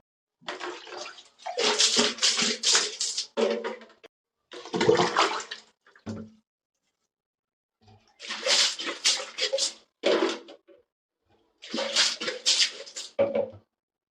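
Water splashing and sprinkling onto the ground in a cartoon, in several separate gushing bursts with silent gaps between them, close and fairly loud.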